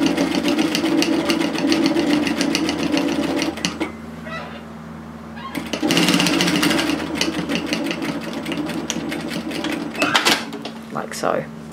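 A sewing machine stitches a pocket seam from notch to notch on a shacket, giving a loud, close, rapid mechanical rattle that runs steadily, breaks briefly and starts again, with a few pauses near the end.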